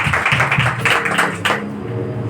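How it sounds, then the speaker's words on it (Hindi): A church congregation clapping for a brother after a baptism talk: close, brisk, rhythmic clapping by a group that carries on for about two seconds before easing off. "ताली बजाएंगे इस भाई को"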